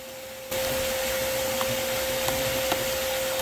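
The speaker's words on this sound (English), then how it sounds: "So I ended up using the wand of the vacuum and vacuumed them right off my veil" A vacuum cleaner switches on abruptly and keeps up a loud, steady whine with a constant high tone while its wand sucks European hornets off a beekeeping veil at a hornet nest removal, with a few faint ticks mixed into the roar.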